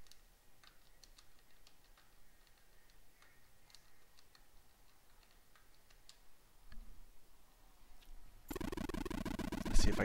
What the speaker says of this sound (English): I'm gonna be silent here while I type it in.